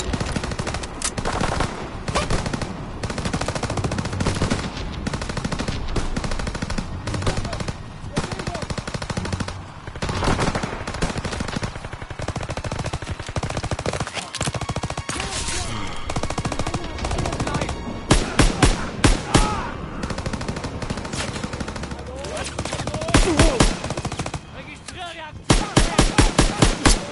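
Rapid machine gun fire in a Call of Duty war game, dense sustained bursts and rattling volleys running almost continuously, loud and close, with sharper staccato bursts toward the end and battlefield noise throughout.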